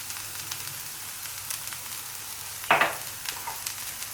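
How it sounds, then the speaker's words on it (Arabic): Onions frying in a pan with a steady, close sizzle throughout and one brief louder scrape or clatter partway through. "هنا البصله ديالي بدات كتنزل، غنزيد لها شويه الملحه"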